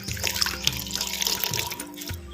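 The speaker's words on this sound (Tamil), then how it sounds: "கொஞ்சம் பச்சை தண்ணி வந்து சேர்த்துக்கும்" Water is poured into a masala mixture for crispy cauliflower 65, giving a brief, close trickle and splash with soft liquid drips.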